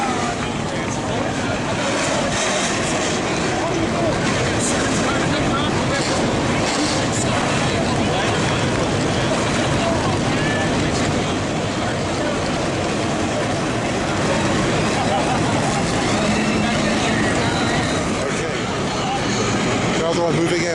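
NASCAR Xfinity Series race cars at Dover, Delaware, their engines producing a continuous loud broadband roar that holds steady throughout, with crowd and track noise blended in.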